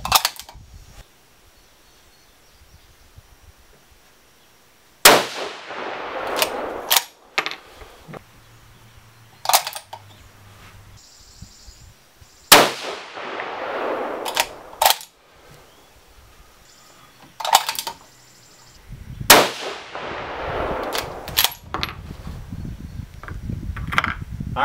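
Rifle shots at a range during barrel chambering and sight-in, several sharp, loud reports spaced seconds apart, each followed by mechanical clicks and handling noises of the action between shots.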